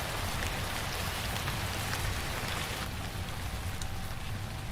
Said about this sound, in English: need a rain noise